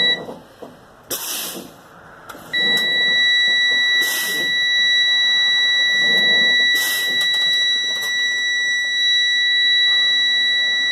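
Low air pressure warning buzzer in a truck cab sounds as a loud, steady electronic tone that starts a few seconds in and holds continuously to the end, over bursts of hissing air released from the brake system.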